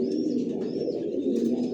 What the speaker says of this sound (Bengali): আমার লফটে সব একই লাইনের কবুতর পালি, জনসনের লং এর অরিজিনাল রেসার